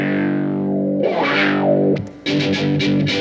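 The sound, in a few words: fuzz pedal distortion on fiddle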